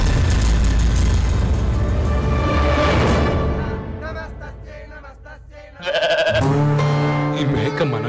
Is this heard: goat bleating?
yes